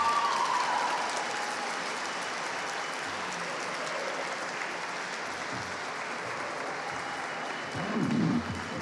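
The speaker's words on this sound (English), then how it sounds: "Please keep that applause going for all our speakers this morning" A crowd at a State House rally applauds its morning speakers in a broad, steady wash of clapping that continues throughout. A short tonal sound marks the start, and a brief louder swell comes near the end.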